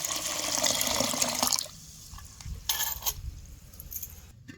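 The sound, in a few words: pouring water off soaked wheat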